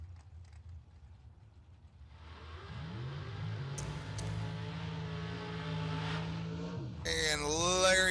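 A drag race car at an outlaw drag racing event rolls up to the start line, its engine idling low and then rising in pitch and loudness, ending in a sharp, bright revving burst.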